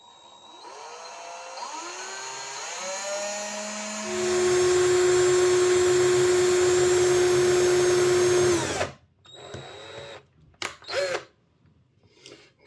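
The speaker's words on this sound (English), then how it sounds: "I'm going to have to hold it like that and then drill in" A small drill bores a hole in a model locomotive wheel, a Bachmann Branchline Class 4, producing a steady high motor whine for about five seconds. The whine stops abruptly and is followed by brief, quieter handling sounds.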